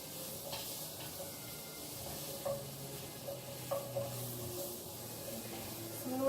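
Pumpkin masala sizzling quietly in a pan, big pieces of pumpkin frying under a soft steady hiss with occasional faint stirring clicks.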